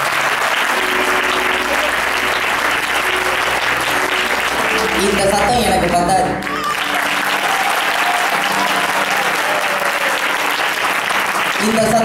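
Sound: audience clapping hands

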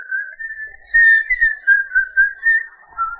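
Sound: whistling imitating a pocket watch sound

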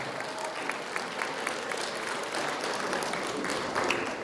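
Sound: audience applause for a young oboist

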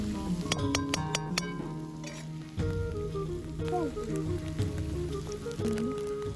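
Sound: spices sizzling while cooking green moong curry

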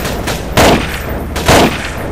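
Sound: gunfire in Half-Life 2 mod video game

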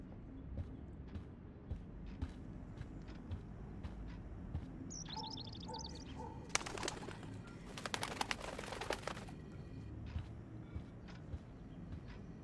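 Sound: bird calls in video game Life is Strange

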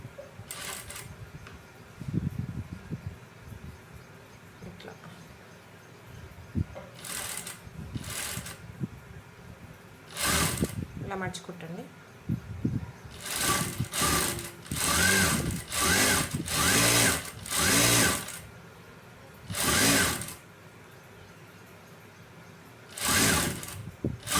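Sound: sewing machine stitching piping

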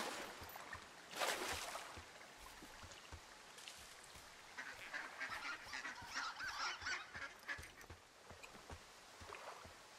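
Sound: geese honking in video game Firewatch

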